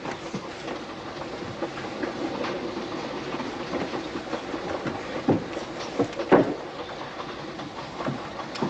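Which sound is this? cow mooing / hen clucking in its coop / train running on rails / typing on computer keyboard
train running on rails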